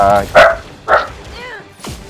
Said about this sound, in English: excuse my puppy, he's been barking all day